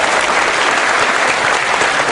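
Loud, dense applause from a large audience at an anti-corruption discussion event, a steady roar of clapping filling the whole moment close to the microphone.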